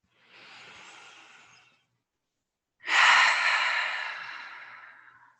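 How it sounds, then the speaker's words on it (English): Two slow, deep breaths taken during a guided breathing exercise: a soft, airy inhale, a pause of silence, then a fuller, louder exhale that gradually fades, heard close and alone. "we'll be here for the next 2 breaths"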